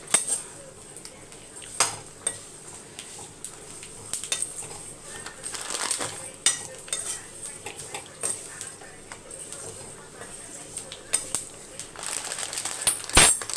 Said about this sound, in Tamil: இப்போ வந்து ஒரு 1/4 சேமியா மட்டும் போட்டு வறுத்துக்கலாம்.